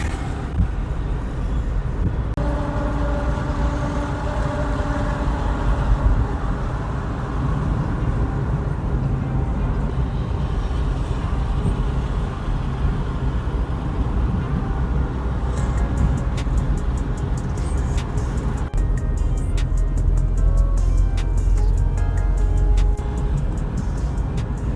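A vehicle cruising along a national highway around Vijayawada, a steady loud rumble of engine and road noise with passing traffic swelling and fading throughout.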